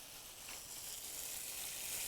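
Ground meat sizzling in a pan with onion and tomatoes, a steady close hiss of frying that holds even and continuous throughout, with no talk.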